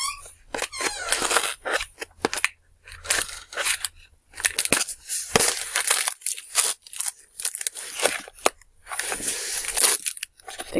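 Scissors snip and crunch through plastic and cardboard packaging around a glass-encased candle, with repeated crinkling, tearing and cutting bursts broken by short pauses, close and busy throughout.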